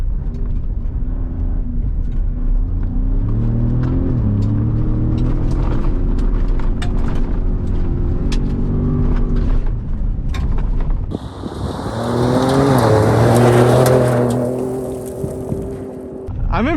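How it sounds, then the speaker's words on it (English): A Raptor truck slides on loose ground, its engine droning and surging under steady wind rumble, then revving hard in a loud burst near the end with tire and dirt noise. "I'm impressed that the Raptor's able to like really just slide like this well"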